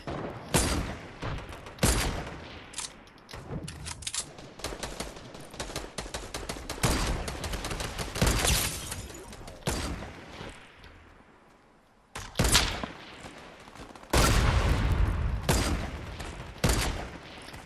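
Gunfire from a semi-auto sniper rifle in Fortnite rings out in loud, sharp bursts with brief pauses between volleys, punctuated by heavy booms near the end.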